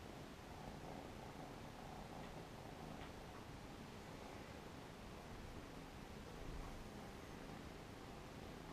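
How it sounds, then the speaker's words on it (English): A cat's low, steady purr rumbles continuously under broadband hiss, close and quiet, with no voices. "I'm going to listen to him purr."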